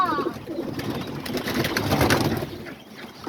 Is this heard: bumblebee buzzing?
no